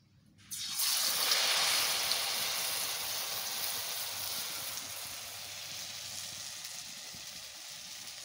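Batter-coated eggplant slices drop into hot oil and burst into a loud, steady sizzle that stays strong and continuous for several seconds.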